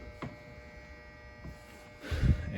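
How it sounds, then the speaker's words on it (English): A display board fire alarm system gives off a steady, low electrical hum that runs throughout. A louder rumbling burst comes near the end. "Forgot it made that concerning humming noise."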